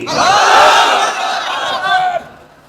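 A large crowd of married men at an outdoor Bangladeshi waz gathering in Thakurgaon roaring the takbir response in unison, a loud swelling chant that rises, dips, surges again briefly, then cuts off into quiet.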